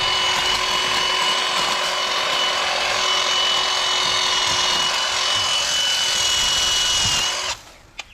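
A Milwaukee M12 Fuel 8-inch cordless hedge trimmer cutting undergrowth, running continuously with a steady, buzzing, close motor whine and rustling of cut growth before stopping abruptly near the end.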